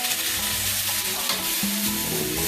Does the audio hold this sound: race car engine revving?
no